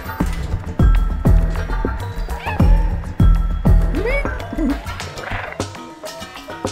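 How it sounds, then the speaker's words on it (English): A cat meows a few times amid repeated heavy thumps and clattering impacts, with other sounds in the background, in the video game Stray. "I really love the meow sounds that they got for it"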